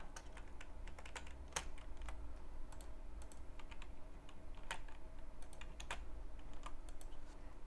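A value is typed on a computer keyboard as part of Excel-driven Inventor design modeling: scattered, crisp key clicks in irregular bursts, close and moderately quiet over a faint steady hum.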